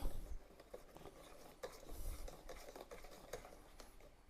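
Quiet stirring of buttermilk and eggs for a plum cake batter, soft irregular tapping and swishing of a whisk or spoon in a bowl, faint and close.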